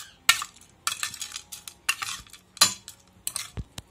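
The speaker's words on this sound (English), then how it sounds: "let's mix this food" Metal spoon stirring dog food in a bowl, a series of sharp clinks and scrapes in uneven bursts, close and fairly quiet, with no voices.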